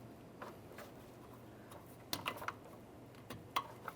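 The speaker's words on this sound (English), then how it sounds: "Press that in, listen for a click" An electrical connector on a 2002-2009 Chevrolet Trailblazer fuel pump module snaps into place with a few sharp, close clicks over a quiet background, one near the middle and another toward the end.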